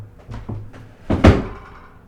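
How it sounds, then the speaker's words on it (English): A dog's wagging tail thumps against a table indoors, a few soft knocks building to a louder cluster of bangs near the middle before fading. "her dog banging against the table"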